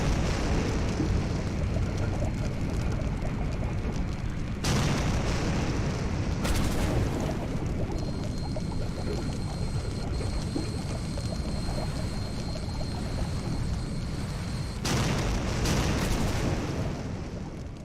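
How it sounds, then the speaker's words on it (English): Video game explosions and rumbling blasts, a continuous heavy roar with sharp cutoffs and sudden restarts, loud and dense throughout, with no speech over it. "Explosions."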